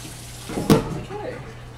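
Water runs from a kitchen tap for a moment to rinse chili ingredients. It is a short, soft splash that swells and fades within about a second.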